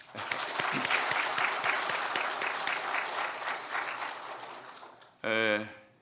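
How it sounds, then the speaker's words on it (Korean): A church congregation at a revival service applauds the worship team, a full steady round of clapping that fades out over several seconds before a voice speaks at the end. "다 같이 수고했다고 큰 박수 한번."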